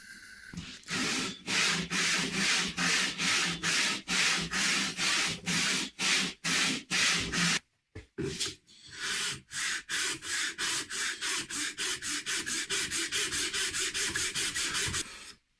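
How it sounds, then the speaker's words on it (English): A chemically polished steel file is drawn along the wooden edge of a coffin to remove saw marks, giving steady, close, rhythmic rasping strokes. A brief pause comes midway, then quicker strokes follow, with no talking. "I'm using my chemically polished file just to get all the saw marks off the edge"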